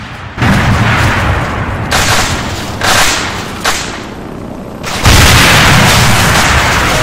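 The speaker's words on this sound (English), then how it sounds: "Oh, we're taking mortars." Mortar shells in a combat video game land in a run of heavy booms and crackling blasts, several separate bursts rising and falling, with one loud, sustained blast near the end.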